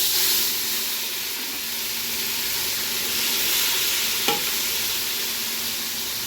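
Masala frying in oil in a pot for salmon fish biryani, with onions, curry leaves and cashews fried beforehand; a steady bright sizzle runs throughout, with one short sharp scrape of stirring near the end.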